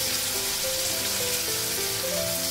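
Potatoes and eggplant frying in a pan with a ginger, cumin and garlic paste and salt give off a steady, close, continuous sizzle with no one talking.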